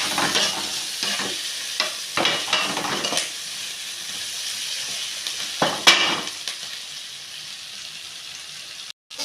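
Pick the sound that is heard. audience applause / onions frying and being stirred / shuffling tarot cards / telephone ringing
onions frying and being stirred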